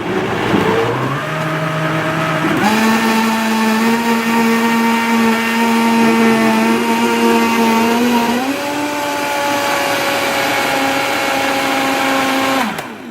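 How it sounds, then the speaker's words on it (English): A blender churns spinach with a loud, close, whining motor that climbs in pitch as it spins up and holds steady, then shifts speed before cutting off near the end, with no talk. "Turn it on. Blend it up."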